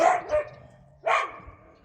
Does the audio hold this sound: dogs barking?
yes